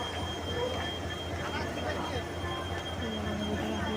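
A train rumbles at a night railway station in Assam on the way to Guwahati, a steady close roar with faint wheel squeals and muffled voices underneath.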